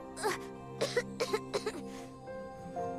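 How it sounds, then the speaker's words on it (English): Several short coughs in quick succession from a character in the video game AFK Journey, fairly close and moderately loud, followed by a brief pause and a faint vocal murmur. "You're coughing again."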